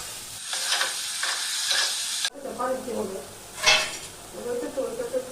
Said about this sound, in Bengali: মাশরুম আর পেঁয়াজ কুচিগুলো ভাজা ভাজা করবো